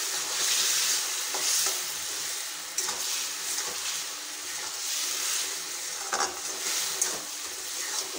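Mango chutney with sugar cooking in a pan, stirred steadily: a continuous close sizzle and bubbling frying hiss with repeated scraping strokes of a spoon against the pan, and no talk.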